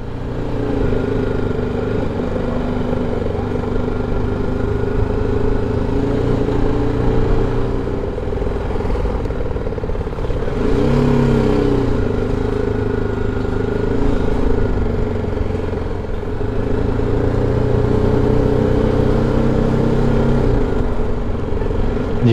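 A motorcycle rides along a curvy mountain road in Kashmir near the Line of Control. Its engine holds a steady, close drone for the whole stretch, with slight swells as it pulls through the bends.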